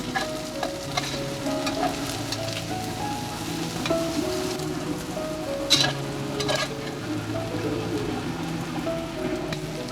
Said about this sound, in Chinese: 锅烧热后，倒入300克培根片，煸炒至出油，培根片出现焦边，然后加入适量的青椒